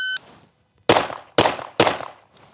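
Three sharp pistol shots from a Staccato fired at a slow, even pace about half a second apart, loud and close on an outdoor range, each followed by a short decaying tail, after a brief electronic beep.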